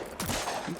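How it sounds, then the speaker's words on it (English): Gunfire in a VR shooting game played on a Katwalk C2+ treadmill: a short, dense burst of rapid shots starting abruptly and continuing to the end, loud and close, with no talk over it. "I'm gonna shoot you right in the ass."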